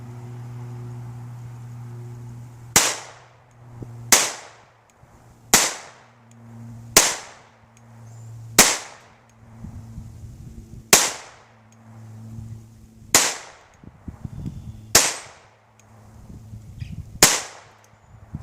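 Nine sharp, separate pistol shots from a 1911 fitted with an Advantage Arms .22lr conversion, each a crisp crack with a short decay, spaced a second or two apart, with a faint hum between.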